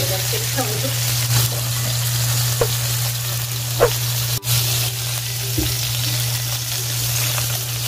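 Food frying in a pan and being turned until both sides cook, a steady sizzle under a constant low hum, with occasional utensil clicks and one sharp knock near the middle.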